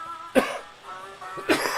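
Two close, rough coughs about a second apart, loud against a quiet background.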